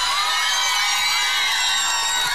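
Karaoke audience on an outdoor square cheering and whooping loudly, a continuous dense roar of crowd noise with shouts mixed in.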